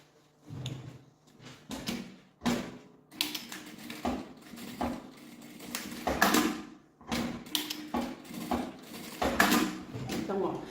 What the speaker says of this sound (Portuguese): E aqui eu passo a costura.